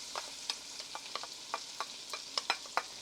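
Onions sauté in butter and bacon grease with a soft, steady sizzle, broken by scattered scraping and tapping stir strokes of a utensil in the pan.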